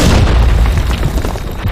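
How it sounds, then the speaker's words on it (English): Grenade blasts in a multiplayer shooter game on a sandstorm map boom heavily and continuously, loud, deep rumbling explosions layered over game noise with no clear gaps. "Grenade! Fire in the hole!"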